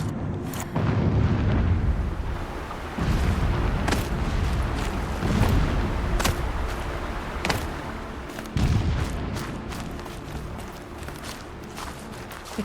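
Distant explosions rumble in the game Horizon Zero Dawn, a series of deep booms at irregular intervals with low rolling tails, moderately loud and heard alone with no talk over them.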